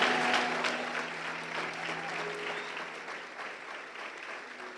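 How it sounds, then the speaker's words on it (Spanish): A church congregation claps in praise, loud rapid applause at first that gradually thins and fades, with a faint sustained tone lingering beneath. "Dele un aplauso al Rey en esta hora"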